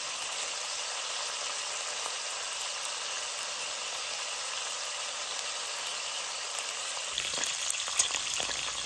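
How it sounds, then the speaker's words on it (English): Bacon fries in a pan with a dense, continuous sizzle and crackle, loud and close, with a few clinks and shifts near the end. "Now we're really just cooking this bacon to create grease."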